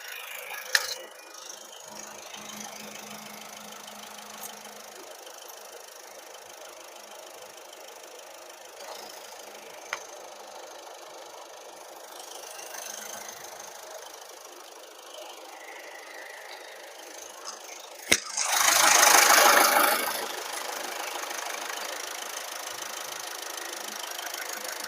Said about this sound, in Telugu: ఇంజన్ అయితే స్టార్టింగ్ లో అయితే ఉంది ఇప్పుడు